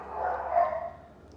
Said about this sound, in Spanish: Aunque ladren los perros.